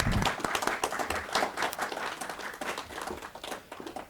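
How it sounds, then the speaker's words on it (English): Audience clapping for speakers at an evening talk event on vaping, a dense, fairly close patter of many hands that rises and falls throughout. "Let's give our speakers a round of applause"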